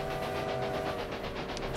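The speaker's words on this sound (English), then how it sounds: "Kinda just want to watch this train travel along this path." A train travels along the track in the Railway Empire video game, a steady rumbling roll with rhythmic pulsing clatter and a faint hiss, close and continuous with no talk.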